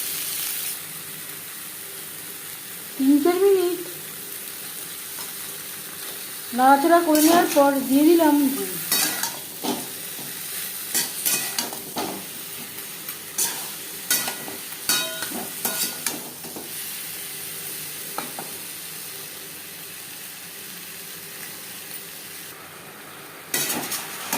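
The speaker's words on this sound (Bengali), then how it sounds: "পাঁচফোড়নের সাথে আম বেশ ভালো করে মিক্স করে দেবো তিন চার মিনিট নাড়াচড়া করে দেবো" Chunks of mango stirred with panch phoron five-spice in a pan, with soft scraping and sizzling and a few louder bursts of stirring, then quieter intermittent clinks and rustles; no talking.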